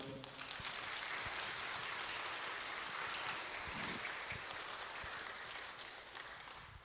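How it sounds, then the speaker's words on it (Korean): An audience at a church lecture gives sustained applause for the South Jeolla provincial education superintendent, a broad, even wash of clapping that tapers off slightly at the end. "다시 한번 교육감님께 큰 박수 부탁드리겠습니다"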